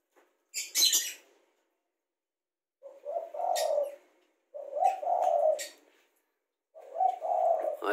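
Ringneck and spotted doves coo close by in a quiet setting, several rolling soft calls in spaced bursts, with a brief flutter or rustle before them.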